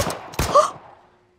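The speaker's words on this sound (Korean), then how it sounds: "총소리가 울려 퍼졌다." Two sharp gunshots crack close together as a sound effect in a dubbed game story, the second louder and followed by a short fading tail into silence.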